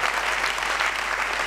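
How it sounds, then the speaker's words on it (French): Church congregation clapping hard at a sermon, a dense, steady, loud wash of applause filling the moment with no gaps. "acclamons très fort"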